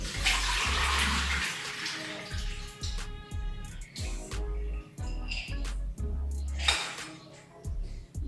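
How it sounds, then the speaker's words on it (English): Groundnuts are washed in water in a kitchen, with splashing and sloshing bursts, short pours and drips, and a few gaps between rounds of rinsing, all fairly close and moderate in level. "I'm going to be washing my groundnut."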